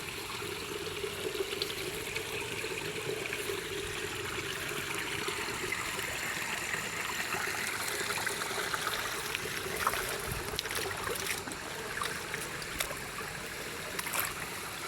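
A small creek trickles and burbles steadily, soft and close, with a continuous liquid wash and occasional faint splashes and no voices.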